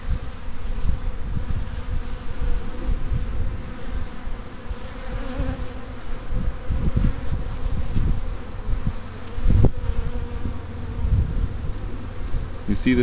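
Dense, steady buzzing of many honey bees close by at the hive on a warm fall day, a continuous droning swarm with no pauses.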